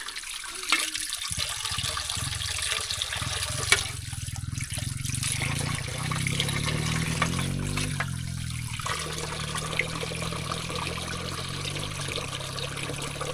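Water from a village water tower, not mains supply, pours and splashes steadily into a container close by, a continuous gushing trickle with small shifts in flow.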